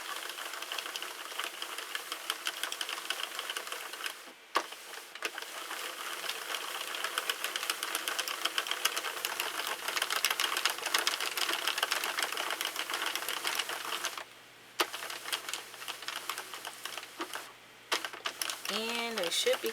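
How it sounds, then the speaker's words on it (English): A Sentro knitting machine is cranked through rows with a continuous clicking, clattering mechanical patter close by. It has brief pauses and goes on for the whole stretch. "I'm just going to crank up a bunch of rows."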